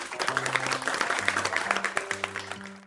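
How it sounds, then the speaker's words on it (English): Several people clap together in a rapid, lively burst of sharp hand claps, layered over bright synthesized music for a children's phonics lesson. "Let's clap together."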